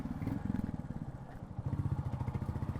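Royal Enfield Goan Classic 350 motorcycle idling, its exhaust giving a steady low thump-thump pulse up close, with a brief dip in the middle before the rhythm resumes.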